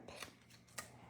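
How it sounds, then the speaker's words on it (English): Two quiet, crisp scissor snips cut through cardstock while a fall watercolor card is being trimmed, the blades closing in quick separate bites. "And I'm going to snip that."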